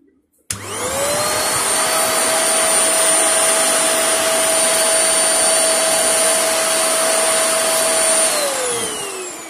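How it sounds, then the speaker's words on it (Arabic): A household vacuum cleaner switches on abruptly and runs at a loud, steady whine with a constant motor tone, then begins to wind down just before the end. "هاي المكنسة"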